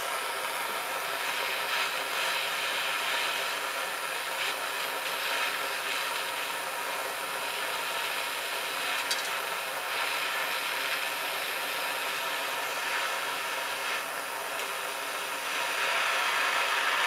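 A blowtorch flame roars steadily as it heats a copper pipe joint for soldering while plumbing in compressors, a continuous broad hiss at even loudness throughout with no talk.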